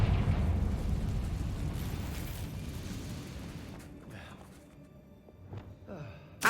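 A Confringo fire spell bursts in Hogwarts Legacy, a deep rumbling blast that rolls and slowly fades over several seconds, followed by softer thuds and a sharp pop at the end.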